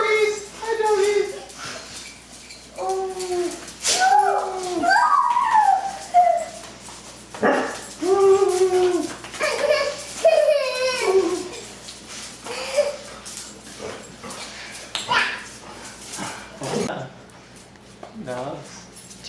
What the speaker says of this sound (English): Friendly dogs.